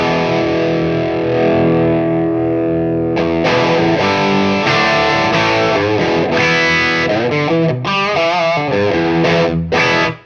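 Electric guitar running through stacked overdrive and distortion pedals with a hot, bright tone, played as sustained chords and then busier picked phrases, loud and up close with no voices over it.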